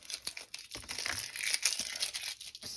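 A taped plastic grocery bag being peeled off a cardboard backing, giving close, quiet crinkling and tearing rustles in irregular bursts with no talking.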